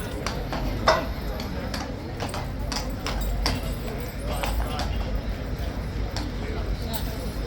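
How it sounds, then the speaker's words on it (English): A horse's hooves clip-clopping on hard ground as it is led through gates into a yard, a steady series of sharp knocks at walking pace, close by, with a voice talking over them. "Taking the horse through into the yard."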